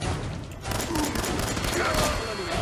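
Missile launcher firing in the video game Fallout 4, a dense burst of explosive blasts and rumbling booms that fills the whole stretch, loud and continuous.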